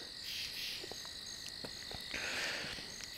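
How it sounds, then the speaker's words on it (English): A nighttime chorus of katydids and crickets in late October, a dense steady shrill trill sustained throughout with scattered faint clicks and chirps, no voices. "we got the cricket chorus, the katydid chorus."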